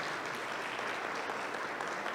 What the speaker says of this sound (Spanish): Vamos a darles un aplauso a los hermanos.